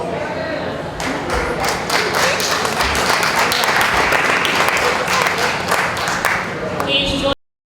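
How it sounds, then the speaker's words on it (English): A large audience applauds at a 2016 Days in Solidarity with African People campaign event: dense, steady clapping fills about seven seconds at close range, then cuts off abruptly. "Please join me in applauding this month's fourth event for the 2016 Days in Solidarity campaign."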